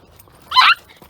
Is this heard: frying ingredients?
no